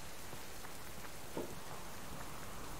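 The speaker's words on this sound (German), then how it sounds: "Nein, es regnet." Rain falls steadily in the survival game Subsistence, a soft, even patter that continues unbroken at low volume, with no other sounds standing out.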